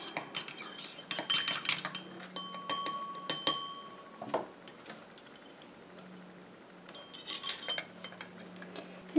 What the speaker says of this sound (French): Deux gouttes de vitamine E. Je mélange un petit coup.